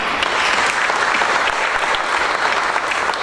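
Audience applause for panelists at a morning session of the Shape Durban 2018 conference, a dense, steady roar of many hands clapping close by, sustained evenly throughout with no talk over it.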